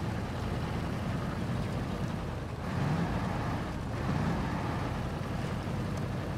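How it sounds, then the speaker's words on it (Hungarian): A truck engine in Expeditions: A MudRunner Game gives a steady, loud, broadband drone with a rumbling low end that holds without a break throughout. "A motor hang az mennyire hangos?"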